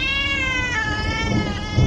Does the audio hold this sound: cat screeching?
yes